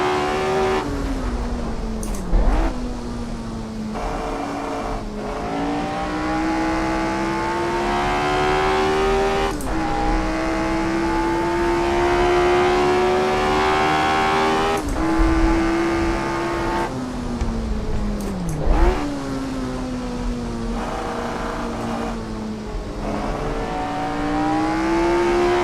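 Lotus 25 race car engine in Assetto Corsa lapping Brands Hatch, a continuous loud buzzing engine note that climbs through the revs, drops sharply at each gear change or braking point, then winds up again, with no talk.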